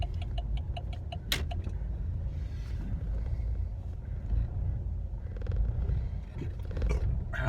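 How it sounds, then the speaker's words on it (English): Car engine idling roughly in a parking lot, a low uneven rumble that runs steadily throughout, with a few sharp ticking clicks near the start and no voices. "my car is idling really funny. Hear that? That is not a normal, healthy idle sound."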